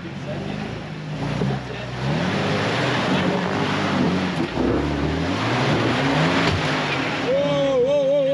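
A Jeep TJ engine roars and revs hard while driving off-road to test axle repairs, sustained and loud with rising and falling pitch, wind buffeting, and voices briefly audible.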